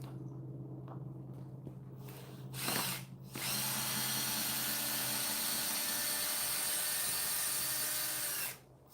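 A power drill whirs steadily while backing out screws coated in cement, starting with a short burst, then running loud and continuous for several seconds before stopping abruptly, with no talk.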